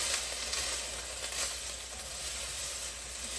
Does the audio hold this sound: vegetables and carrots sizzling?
yes